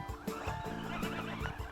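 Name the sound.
goat bleating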